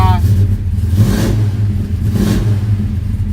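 Car engine fitted with Holley Sniper fuel injection, just started in below-zero cold and idling unevenly around 900 to 1,000 RPM, a loud close low rumble with a slight surge midway and a voice speaking over it.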